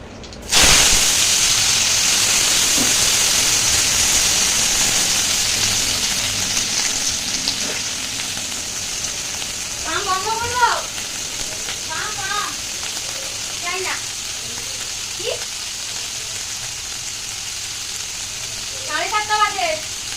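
Ridge gourd slices hit hot oil with black cumin in a kadai, setting off a loud sustained sizzle and hiss that holds for the whole stretch, while a few brief voices come and go over the frying.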